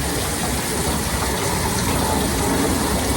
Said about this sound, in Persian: ظرف شستن کلا عالمی داره کلا واسه من یه خورده سخته